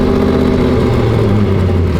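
A 900-horsepower supercharged Jeep Willys Ultra 4 truck engine runs loud and close, a steady deep mechanical drone with a slight shift in pitch partway through.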